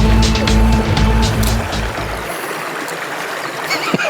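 River water rushing along a hiking route, a loud continuous broadband wash with a low engine-like hum at first that drops away, leaving steady flowing water up close.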